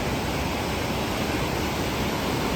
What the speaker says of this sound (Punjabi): ਇੱਧਰ ਪਾਰਵਤੀ ਨਦੀ ਚੱਲ ਰਹੀ ਆ